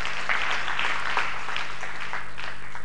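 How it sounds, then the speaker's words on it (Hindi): An audience at a poetry evening at Pt. Todarmal Smarak Bhavan claps for a poet, a sustained, dense wash of many hands with faint rhythmic surges and no talking. "एक बार जोरदार तालियां।"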